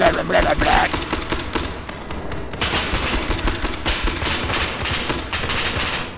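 Rapid automatic gunfire in the horror shooter SCP 5k rattles in fast, dense bursts, loud and close, with a brief pause before the firing resumes.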